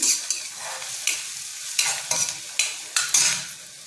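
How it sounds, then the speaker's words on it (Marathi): Onions sauté in a pan for matki usal, a sprouted moth bean curry, with a soft continuous sizzle broken by repeated scraping stirs of a spoon at a brisk, uneven rhythm. No one speaks. "आपल्याला नेहमीप्रमाणे गुलाबी कलर होईपर्यंत परतायचा आहे"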